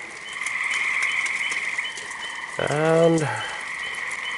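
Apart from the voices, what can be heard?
frogs croaking loudly in light rain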